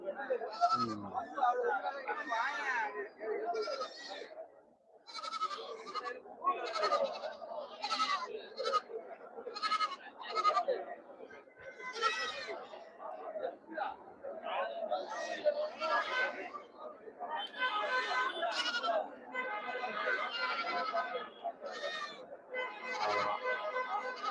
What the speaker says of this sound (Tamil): புதியம்புத்தூர் ஆட்டு சந்தை நம்ம லோக்கல் சந்தை